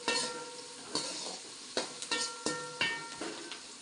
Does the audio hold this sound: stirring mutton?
yes